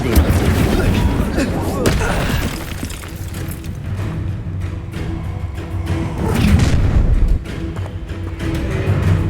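A blazing Incendio fire spell from Hogwarts Legacy erupts amid a game battle, loud booming bursts and crackling blasts mixed with shouted spell-casting voices and combat clatter throughout.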